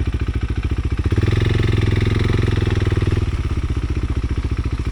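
A KTM 390 Adventure motorcycle on a trail, its single-cylinder engine thumping in a steady, rapid pulse, revving up briefly in the middle before settling back to a loud close putter.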